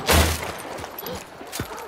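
A loud gunshot bursts at the start, followed by faint thuds and scattered impacts in a tense Hunt: Showdown match, the firing close and sharp with little aftermath.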